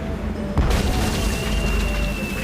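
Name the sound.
Hungarian easy-action cannon firing in Tales of Monkey Island video game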